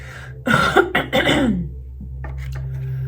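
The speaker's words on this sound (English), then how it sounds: "I have to cough." A few harsh, raspy coughs in a quick cluster, close to the mic, followed by a softer throaty clearing over a low background hum.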